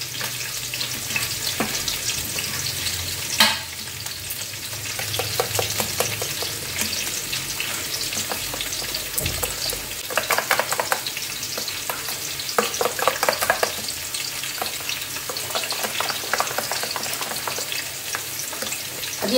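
Cauliflower pieces fry in oil in a pan, giving a steady crackling sizzle broken by frequent clinks and scrapes of stirring, fairly quiet and close, with no talking.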